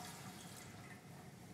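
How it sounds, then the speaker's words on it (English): Liquid yeast culture pours into a propagator in a food science lab, a faint, steady watery trickle running alone for a brief moment. "So they just pour the yeast culture here,"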